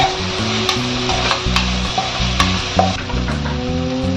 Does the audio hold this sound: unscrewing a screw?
no